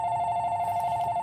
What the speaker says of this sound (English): Hey, my Gary Essie's on the phone